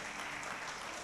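A church congregation applauding, a dense continuous roar of many hands clapping close by, with no gaps across the short moment.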